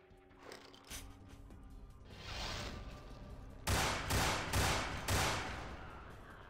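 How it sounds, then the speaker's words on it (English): Gunshots in the video game Vampire the Masquerade: Bloodlines: several evenly spaced, loud bursts of fire come in the second half, with quieter mechanical clicks and rumble leading up to them. "we're gonna just have to shoot him"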